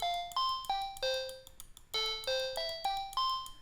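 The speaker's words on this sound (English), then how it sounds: "it's a kid's keyboard, but that's what it sounds like" A sequence of bright, bell-like toy keyboard notes, each struck and decaying quickly, playing a simple melody with short pauses between phrases.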